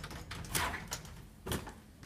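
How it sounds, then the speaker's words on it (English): An apartment unit's door is worked open in a few muffled clunks and a sliding scrape, quiet and close, with faint room noise and no talk. "now I'm going to try to open the door to my unit"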